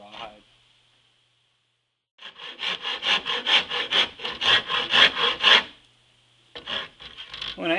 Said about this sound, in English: I could have went with a draw knife with this, but I decided to go with the big rasp